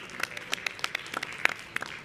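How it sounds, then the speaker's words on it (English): Audience at a metropolitan governance panel applauds the presenters, a brief scattering of claps rather than a full ovation, sharp individual hand claps at a moderate distance with a soft room background. "Please give them another round of applause for their presentations."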